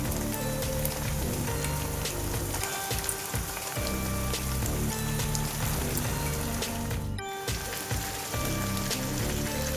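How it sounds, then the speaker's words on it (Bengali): Chicken pieces for hariyali chicken go into half-fried onions and ginger garlic paste in a hot pan, and a dense, continuous sizzle carries on for the whole stretch, close and even, with no voices. "এবার আমি চিকেনগুলো এর মধ্যে ছাড়তে থাকলাম"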